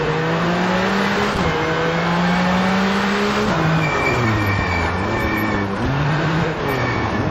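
Rally car engine in V Rally 4, revving steadily with rising and falling pitch as gears change, loud and continuous throughout with no talk.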